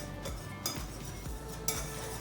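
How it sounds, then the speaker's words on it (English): Wire whisk stirring a dry flour mixture in a mixing bowl, a soft continuous scraping and swishing with faint metallic clinks against the bowl's sides, close and quiet. "I'm going to take my whisk and just whisk this together"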